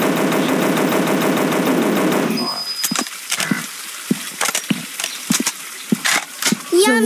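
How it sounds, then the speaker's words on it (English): Sharp gunshots ring out in a dinosaur hunting video game, a string of separate loud bangs at uneven intervals after a dense burst of noise at the start. "Shoot."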